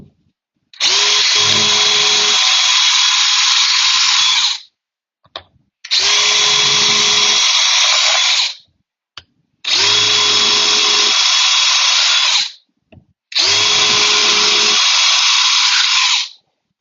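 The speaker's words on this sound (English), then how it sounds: "I'm going to go ahead and drill these holes as well" A power drill bores screw holes in four long, loud whining runs of about three to four seconds each, separated by brief pauses, close up and without talk.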